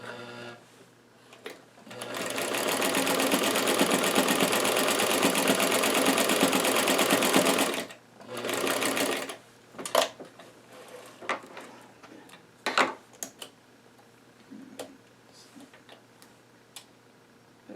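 A sewing machine stitches a doll's rose dress in one long whirring run of about six seconds, then a shorter burst, followed by scattered clicks and handling taps.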